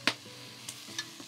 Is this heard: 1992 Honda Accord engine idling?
no